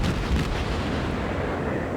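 Naval gunfire from an Atago cruiser firing HE shells in a warship video game, a loud continuous rumble of booming shots with a stronger burst near the start, steady and close with no talk.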